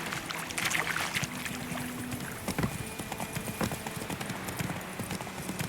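Roach, Geralt's horse in The Witcher 3: Wild Hunt, gallops steadily with a rapid clip-clop of hooves over ambient game background, continuous and fairly close throughout.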